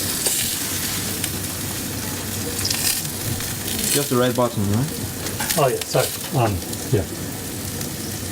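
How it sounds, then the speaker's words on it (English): Burgers containing flaxseed fry in a pan with a steady, hissing sizzle throughout, while people talk briefly over it nearby. "Now you can hear the sizzling of the burgers in the background."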